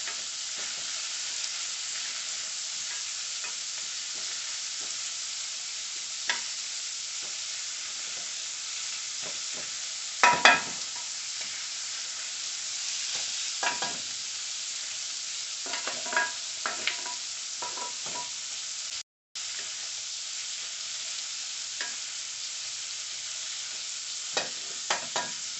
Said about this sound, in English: Make sure you get that sear all over, front and back.